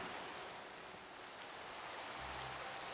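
Rain in the modded video game Minecraft, a steady soft hiss of falling rain, faint and even throughout, with a low hum entering near the end and no talk.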